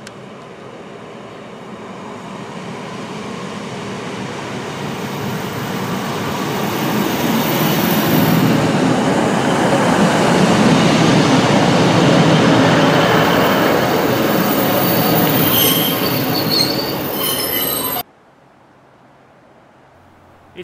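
A train rumbles through Alderley Edge Station, growing louder toward the middle and holding a long roar before cutting off abruptly; no voices.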